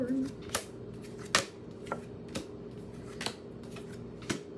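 Tarot cards are shuffled by hand in a series of sharp, quiet riffling snaps, about seven crisp bursts at an uneven rhythm, close and faint with no voice over them.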